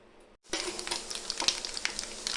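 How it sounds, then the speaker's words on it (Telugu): Spices, peeled garlic cloves, dried red chillies and curry leaves drop into hot oil in a pan, a sudden loud sizzle after a brief silence, crackling and spitting steadily with sharp pops throughout. "ఆయిల్ కాగినాక అందులో తాలింపు దినుసులు, పొట్టు తీసిన వెల్లుల్లి రెబ్బలు, ఎండుమిర్చి, కరివేపాకు వేసి"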